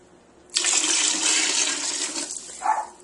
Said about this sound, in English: Now I'm going to add 8 cups of cold filtered water.